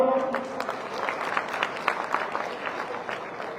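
Applause from an audience at a rally in Jalandhar, a dense, steady patter of many hands clapping for several seconds with a faint crowd murmur underneath.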